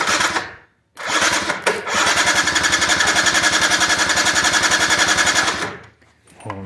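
A Hyosung 50cc scooter, hand-choked for lack of a real choke, sputters briefly, catches, and its small engine runs in a fast, buzzing, pulsing rattle for about four seconds before dying away.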